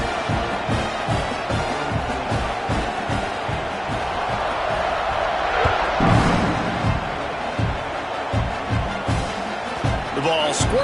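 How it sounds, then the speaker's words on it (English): Large football stadium crowd at an Auburn at Oklahoma game roaring steadily through kickoff, with loud sustained cheering and scattered thumps, and a commentator talking over it. "this crowd now ready to get behind them"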